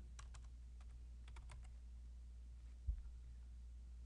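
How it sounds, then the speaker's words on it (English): Quiet keystrokes on a computer keyboard come in short bursts early on, then a few isolated taps, over a steady low hum with one soft thump near the end. "I'll just type in Stockton"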